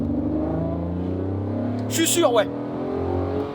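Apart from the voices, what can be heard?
Ferrari 599 GTO engine revving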